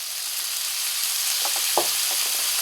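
Lamb hash frying in a pan gives a steady, close sizzle throughout, with a few soft stirring or scraping knocks partway through and no voices.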